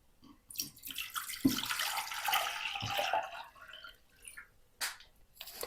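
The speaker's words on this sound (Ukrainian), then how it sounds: "До каструльки вливаю 1 літр води" Water is poured into a saucepan in a steady splashing stream for a couple of seconds, then tapers off into a few drips and small splashes.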